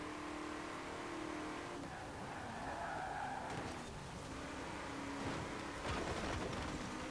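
Porsche race car in Forza Horizon 4 revving at speed, tires skidding and squealing through a street race, engine tone rising and falling continuously for several seconds.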